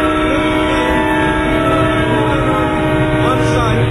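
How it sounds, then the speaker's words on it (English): A passing train fills a train station with a loud, steady rumble and metallic rolling hum, close and continuous throughout, with a faint tonal whistle-like layer and possible muffled voices beneath. "I'm at the train station."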